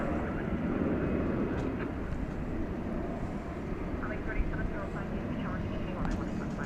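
An Airbus A319 airliner arriving at DFW airport at night, a broad steady engine roar that stays loud and continuous throughout, with voices talking faintly underneath.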